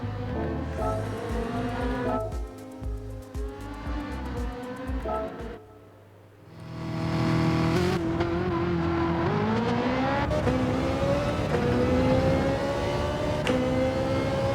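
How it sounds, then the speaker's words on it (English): A Ferrari race car howls around Monza in Gran Turismo 7, the engine loud and close as it revs through the gears, drops away briefly under braking, then climbs again in a long rising scream with tire noise beneath. "Pretty epic, driving a Ferrari down Monza."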